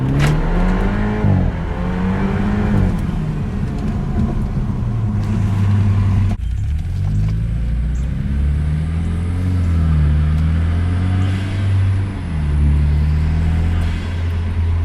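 A lowered, tuned BMW F30 pulls away hard, its engine rising loudly through the revs, with a gear change midway, then climbing again as the car accelerates.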